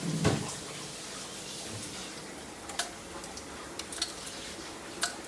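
Cold water is poured into a bottle holding ice, a soft splashing pour at the start followed by sparse sharp ticks and clinks of ice, close and quiet.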